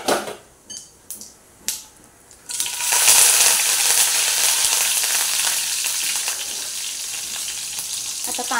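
Mustard seeds and cumin hit hot oil after a few sharp clinks, bursting into a loud, dense, continuous sizzle and crackle that settles slightly but keeps going close up.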